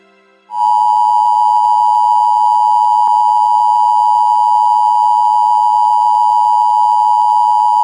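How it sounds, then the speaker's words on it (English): A steady, loud electronic alert tone for an emergency action notification in an animated film, starting after a brief quiet moment and holding continuously without pause to the end, with no voices. "An emergency action notification remains in effect for the United States until further notice."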